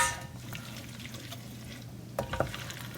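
Ghanaian African chicken stew simmering and sautéing in a large pot, a steady close sizzle and bubble with a couple of brief stirring clatters near the end.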